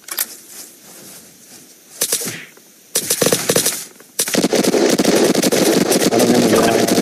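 A heavy gun fires in the Unturned video game, with scattered shots at first, then dense, loud rapid bursts that grow into sustained gunfire.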